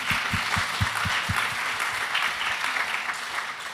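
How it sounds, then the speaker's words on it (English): Applause from an audience at a live-streamed business accelerator event, a steady wash of clapping with a few louder, distinct claps near the start, sustained at moderate level throughout. "We're going to get a clap for that."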